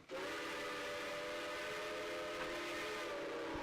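A steam-style train whistle in a Roblox railway game sounds one long, steady chord-like blast, sustained for several seconds without a break and fairly quiet.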